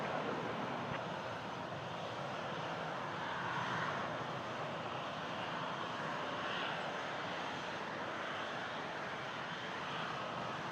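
An Embraer 175 jet airliner takes off at Toronto Pearson, using the full runway, its engines holding a steady, broad roar for about eleven seconds, fairly distant with little change in level.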